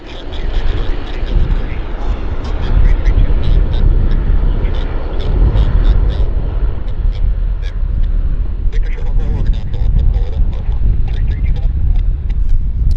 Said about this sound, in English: Great climb profile on that Airbus.